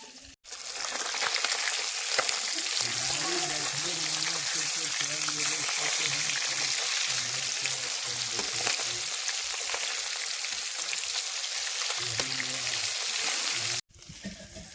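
Fish frying in hot oil in a pan, a loud, steady sizzle that runs almost unbroken for the whole stretch, with a faint low hum underneath.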